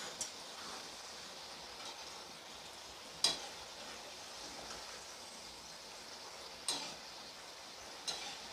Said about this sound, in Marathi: आता आपण भाकरवडी मी तळून घेते.